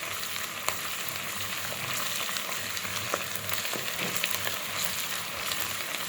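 Paste frying in oil for dhaba-style mash dal gives a steady, even sizzle with faint crackles throughout, fairly quiet and with no voices.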